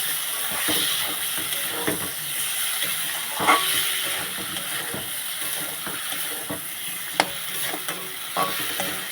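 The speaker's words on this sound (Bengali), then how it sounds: "সবগুলো দিয়ে দিয়েছি এবারে ভালো করে কষিয়ে নেব" Cumin paste and spices being fried and stirred in a pan for pomfret curry: a constant hissing sizzle with occasional spatula knocks and scrapes, close and fairly even, with no one speaking.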